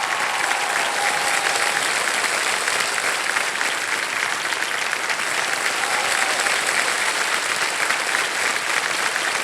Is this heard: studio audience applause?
yes